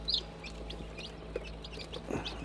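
Young chicken chicks peep softly in a brooder with a constant low hum behind them, a few brief high chirps standing out near the start.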